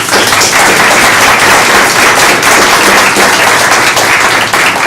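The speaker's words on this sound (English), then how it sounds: "Why don't we give our panelists a round of applause?" A loud, dense round of applause from a lecture audience thanking a discussion panel, continuous close clapping that holds at full strength for the whole stretch.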